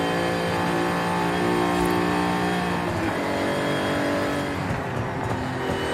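A 1982 DeLorean DMC-12 climbing uphill, its engine droning loud and steady under load with a broad, continuous roar and no voices.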